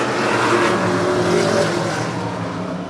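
Senior Tour modified race cars take the green flag in a continuous, loud roar of engines that swells briefly and then holds steady for a few seconds.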